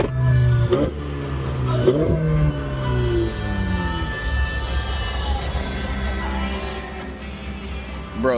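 A straight-piped Ferrari 488 roars loudly up close, with sharp revs rising and falling through gear changes on a morning drive.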